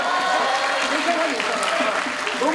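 A dense, steady wash of student applause fills a university campus event during a KBS entertainment visit by MAMAMOO at Sejong University, with excited voices and cheers mixed through the clapping.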